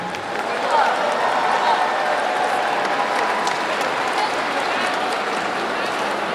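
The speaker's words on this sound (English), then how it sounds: "give a round of applause for our Oak Park High School choir." A high school graduation ceremony audience applauds for a choir, a dense, steady wash of many hands clapping throughout, with a voice over the crowd.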